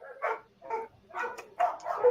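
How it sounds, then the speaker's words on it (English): Several household dogs barking excitedly indoors in a quick, uneven run of yips and barks, close and fairly loud, with no talking over them. "my dogs are going crazy"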